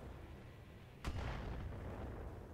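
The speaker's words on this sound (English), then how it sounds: "Here's something coming in on the Battlemaster. That is some long-range missiles." Long-range missile striking a Battlemaster mech in the Battletech video game: one sudden loud boom-like impact about a second in, followed by a sustained rumbling roar over steady background noise.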